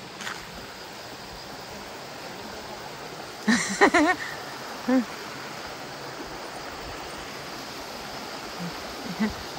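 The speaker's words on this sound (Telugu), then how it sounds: "ఇగో ఎడ కనబడుతుంది జలపాతం బాగా" A waterfall in Wayanad gives a faint, steady rushing wash that runs unbroken throughout, with a few brief bursts of human voice breaking in around the middle.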